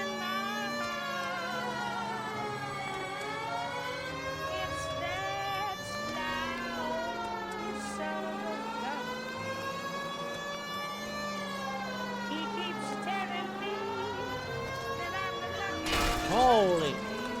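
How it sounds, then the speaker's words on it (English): A police car siren in the video game L.A. Noire wails continuously in rising and falling sweeps, loud and close, with layered harmonic tones, and ends in a brief louder burst. "putting the siren on might remove the element of surprise from your hit and runs"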